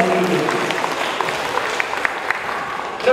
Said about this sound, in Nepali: उहाँहरूलाई हामी जोरदार ताली दिउँ